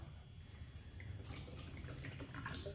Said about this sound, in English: Now let's pour our beautiful, perfect, lovely, antioxidant, anti-aging Kangen water.